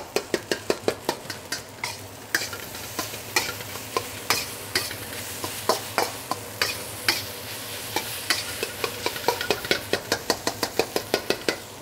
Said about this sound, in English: Holding your utensil outward, you can actually use that to break up the egg a whole lot.